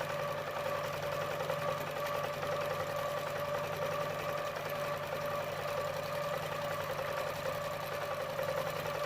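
Longarm quilting machine stitching steadily at a quilt festival booth, a continuous close mechanical hum with fast even stitch rhythm running throughout without pause.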